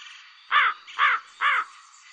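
A crow gives three loud, harsh caws in a row, evenly spaced and close, against a faint background hum.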